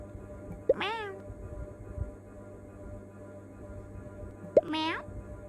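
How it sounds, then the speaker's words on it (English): A cat gives two separate meows several seconds apart, each a rising then falling wail, close against a quiet, low hum in the room. "Meow."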